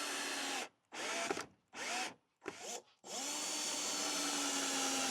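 A power screwdriver drives screws into plastic with pilot holes, whirring in three short bursts separated by pauses, then running in one longer continuous spin, loud and close.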